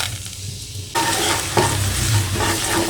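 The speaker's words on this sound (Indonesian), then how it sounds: "Setelah minyaknya panas, kita akan tambahkan bawang putih ke dalamnya." Chopped garlic dropped into hot vegetable oil in a pan for a tomato spaghetti sauce, starting after a quiet second with a loud, dense, continuous sizzle and crackle that stays steady to the end, with no voices.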